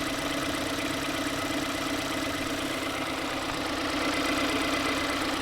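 A car engine idles steadily and evenly, a continuous close mechanical drone with no revving and no clear knocking, alone with no voices.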